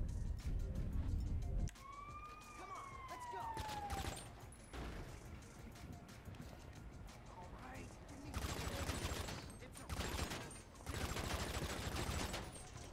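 Gunfire in the video game GTA 5 crackles in loud broadband bursts in the second half, with rapid volleys standing out over a busy mix of game sound.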